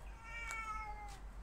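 A house cat in a garage gives two short, soft meows about half a second apart, fairly quiet and alone over faint background hum.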